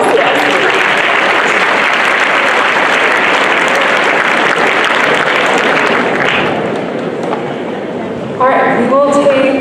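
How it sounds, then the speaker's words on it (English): Loud, sustained applause from a large audience at a model UN opening ceremony after a question is answered; dense, steady clapping fills the hall before tapering slightly, with a voice speaking over it at the end. "A round of applause"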